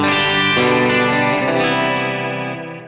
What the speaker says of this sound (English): Put the reverb on that and delay, and it's like the coolest.